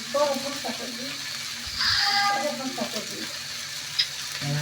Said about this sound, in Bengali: একটু পরপর লাড়া দিতে হয়, না হলে তো লেগে যাবে।